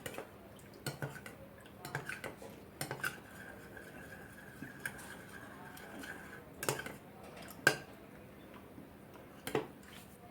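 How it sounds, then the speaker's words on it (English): A spoon mixes a homemade hair gel of ginger, aloe vera and coconut oil in a small bowl, giving scattered light clinks and taps against the bowl at an irregular pace with quiet scraping between them, close and soft. "Mix it properly at least for 1 minute."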